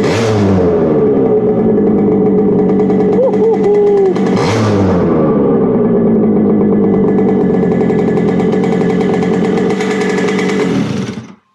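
A Yamaha RD50dx moped engine with an HPI 2Ten ignition fitted revs hard, its buzzy two-stroke note rising and falling sharply with quick throttle blips, loud and close, then cutting off abruptly at the end.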